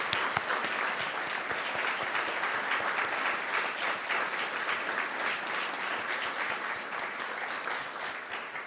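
Audience at a business club event in Canada breaks into steady applause, a dense even wash of clapping from a large room, moderately distant and unbroken by speech.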